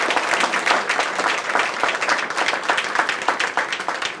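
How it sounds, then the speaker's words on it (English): A sustained round of audience applause at a community event announcing a new regional medical hospital center, dense and steady clapping throughout with no talk. "certainly we should give the community a round of applause for participating"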